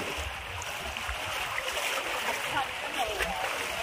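Vehicle pushing through floodwater in Haridwar, with steady broadband splashing and rushing water close by throughout, a faint voice underneath.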